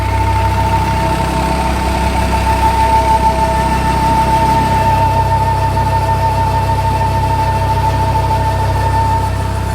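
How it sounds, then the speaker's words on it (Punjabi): A generator engine runs loudly and steadily nearby at a house in a Punjab village, a constant low drone with a faint tonal whine on top, no pauses throughout. "ਆ ਚੱਲਦਾ ਜਨਰੇਟਰ"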